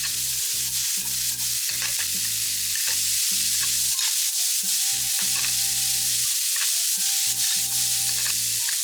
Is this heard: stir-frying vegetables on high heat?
yes